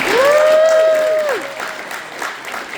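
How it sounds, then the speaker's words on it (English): An audience at a film festival Q&A applauds with a sharp whistle or cheer over the clapping, loud at first and then thinning out after about a second and a half. "Let's give another round of applause to our creators today."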